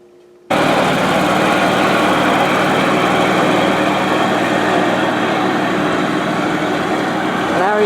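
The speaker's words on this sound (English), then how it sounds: "been working on the John Deere mower for the last couple of days, and he got it running again" A John Deere riding mower's engine starts up abruptly and then runs steadily at a loud, constant drone close by, with no voices over it.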